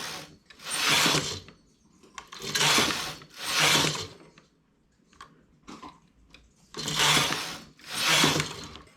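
Knitting machine needles are pushed down one after another, giving repeated bursts of mechanical clicking and ratcheting sliding, each about a second long with short pauses between, close and loud, with no voices.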